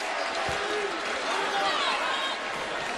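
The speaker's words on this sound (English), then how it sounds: "Crowd reacts to Jamari Traylor as he sits down" Arena crowd at a 2015 NCAA college basketball game between Kansas and Wichita State, a steady loud wash of cheering and applause with an announcer talking over it.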